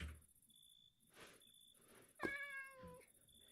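A cat meows once, a clear, fairly close drawn-out cry near the middle, set against a quiet background with a faint steady high tone and soft clicks.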